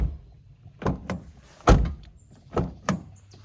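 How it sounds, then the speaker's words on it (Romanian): Several solid thunks of a Toyota Yaris Cross or Suzuki Vitara door shutting, spaced a second or so apart, each a short dull thud with a brief rattle. "Hai să vedem cum se aude o mașină japoneză făcută în Ungaria când închizi ușa."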